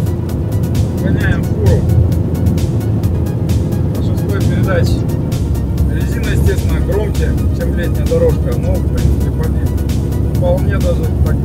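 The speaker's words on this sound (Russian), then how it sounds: "Есть такой гул, как будто самолет по бетонке едет." A low, steady road drone fills the cab of a truck cruising at 120 km/h in sixth gear, a constant rumbling hum with a person talking over it throughout.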